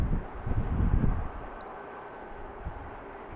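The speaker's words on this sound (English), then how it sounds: "There's our Manchester flight taking off" Airliner taking off at BWI airport in Baltimore on a windy afternoon, a broad low jet roar that swells then eases back, heard from a distance with some wind buffeting.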